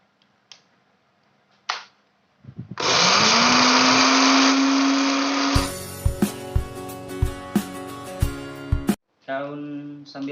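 An electric blender grinds dried sambiloto leaves into powder, starting with a loud rising motor whine that holds steady, then shifts into rattling, pulsing grinding with repeated knocks before cutting off and restarting briefly.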